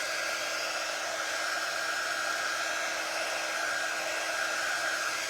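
A hair dryer blows steadily and fairly close, drying paint on a handmade fall car charm craft, a constant whooshing hum with no talking.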